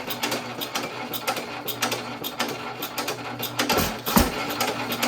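A hit-and-miss engine runs with a steady mechanical clatter of rapid repeating clicks and knocks, with a couple of heavier low thumps near the end as the leaned-out mixture makes it double suck. Close and continuous, with no voices.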